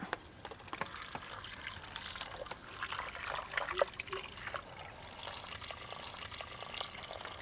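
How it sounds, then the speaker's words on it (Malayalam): Water trickles and pours steadily into a pressure cooker holding potatoes for several seconds, a soft continuous liquid splashing with no voices. "എന്നിട്ട് ഇതിലേക്ക് വെള്ളം ഒഴിച്ചു കൊടുക്കുക"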